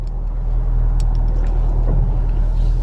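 Chevy Camaro SS Scat Pack engine in track mode, a deep steady low rumble close by while driving, continuous and fairly loud with light tire and road noise.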